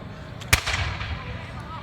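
A single sharp musket shot cracks at a battle re-enactment of the Battle of Great Bridge and is followed by a fading rumble, with faint voices in the background.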